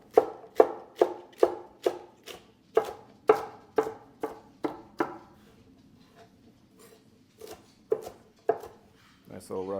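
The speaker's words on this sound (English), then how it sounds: "chop up some romaine, and we're going to chop this more in the bowl" A knife chops romaine lettuce on a cutting board in a steady run of crisp, close strikes about twice a second, pausing briefly before a few more chops.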